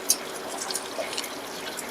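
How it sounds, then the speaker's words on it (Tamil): Water poured into a simmering pot of chickpea gravy for breakfast, a faint, steady trickle with light drips and small splashes, close by and quiet throughout. "இப்போ தேவையான தண்ணி ஊற்றிக்கிறோம்"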